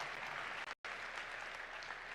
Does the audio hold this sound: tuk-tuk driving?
no